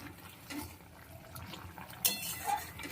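A spoon stirs stuffed pointed gourd curry, sweetened with sugar, in a cooking pan: faint, scattered scrapes and light metallic clinks over a soft, wet background.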